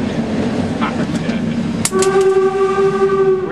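A steam train rumbles along with a low mechanical drone, then a sustained whistle sounds loudly and holds steady; people talk faintly underneath, on a steam railway in the Harz Mountains.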